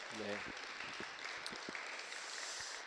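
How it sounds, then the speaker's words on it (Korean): A church congregation at an environmental seminar applauds in thanks for a visiting pastor's lecture, faint and distant clapping, with a brief voice at the start. "다시 한번 감사의 박수 드리겠습니다."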